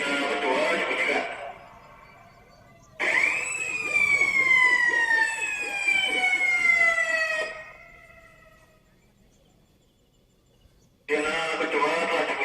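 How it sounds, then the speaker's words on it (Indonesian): Second warning siren sounding at the Bagong dam construction site before blasting, a loud wailing tone that rises then slowly falls over several seconds, set between bursts of noisy background sound and a quiet pause. "Baik, sirine kedua dibunyikan"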